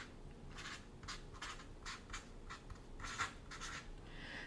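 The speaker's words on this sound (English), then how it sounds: "I'm also going to write it on here" Marker strokes on a whiteboard in a math lesson, a quick series of short squeaky scratches in bursts, fairly close and alone without talk.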